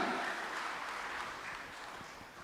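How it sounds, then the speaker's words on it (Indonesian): Steady applause for a young leader at an inauguration ceremony for a mosque community group in a hall in Makassar, a dense continuous clapping that fades slightly over a couple of seconds. "sekali lagi beri tepuk tangan yang meriah kepada pemimpin muda kita"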